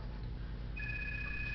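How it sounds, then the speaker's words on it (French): A mobile phone begins ringing partway through with a steady high electronic tone over a low background hum, faint and continuing to the end. "il y a mon téléphone qui sonne"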